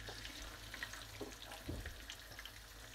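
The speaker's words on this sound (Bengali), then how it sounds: "তো এভাবে আমি চিকেনগুলোকে ভেজে নিব" Chicken pieces frying in onion-flavoured oil in a frying pan, a soft, steady crackle and sizzle with small pops and light clatter, fairly faint and close.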